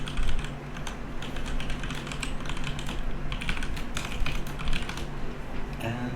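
Login details being typed on a computer keyboard, a quick irregular run of close, crisp key clicks with brief pauses, lasting several seconds over a faint background hum, no speech.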